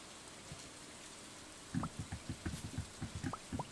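Rain falls in the Stardew Valley farming game as a soft, steady hiss, with a series of low, soft plopping splashes that come in a loose rhythm across the second half. No voices are heard.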